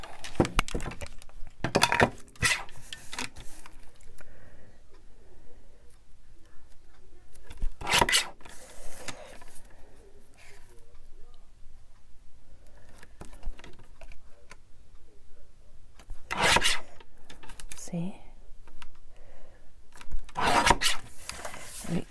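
Paper being trimmed for an altered golden book craft: scattered short cutting and rasping bursts, a few sharp strokes separated by quiet stretches of light handling rustle, close and moderately soft.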